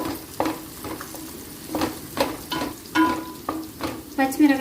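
Cashews, onion and green chilies frying in a pan for chicken fry, with a soft continuous sizzle broken by repeated scraping stirs of a spoon at an uneven rhythm.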